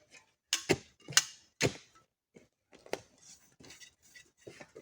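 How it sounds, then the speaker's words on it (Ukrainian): A small titanium frying pan is handled, with a few sharp clinks and taps followed by lighter scattered rattles and clicks, close by and without speech. "сковорідка маленька титанова, щоб щось жарити"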